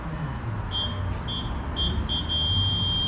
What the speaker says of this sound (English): installed with rear parking sensors. So as you can hear, the closer you get, it's nice and loud